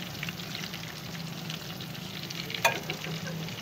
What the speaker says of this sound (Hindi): हम इनको अच्छी तरह फ्राई करेंगे जब तक ये और ही पक